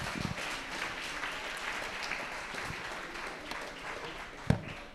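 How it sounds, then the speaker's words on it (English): Quiet, steady applause from the audience at a secondary schools' debate competition, heard at a distance and holding evenly throughout, with one sharper knock near the end. "please give her a round of applause"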